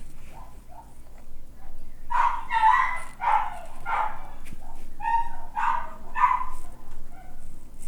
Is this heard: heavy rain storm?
no